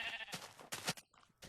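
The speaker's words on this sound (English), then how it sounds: "There's a sheep." Sheep in Minecraft bleat in short, nasal, wavering cries, two or three close together and fairly loud, with brief pauses between them.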